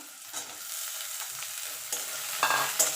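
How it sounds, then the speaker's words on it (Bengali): Garlic, onion and potato frying together in a pan for a drumstick-leaf dish, a steady close sizzle with brief louder stirring scrapes near the end. "রসুন পেঁয়াজ আর আলুটা একসঙ্গে একটু ভাজা ভাজা করে নেবো"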